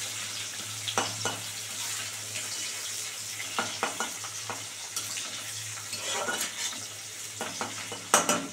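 Onion frying in a pan with panch phoron, white cumin and bay leaf gives a steady close sizzle, punctuated by repeated metal clinks and scrapes of a spoon as it is stirred.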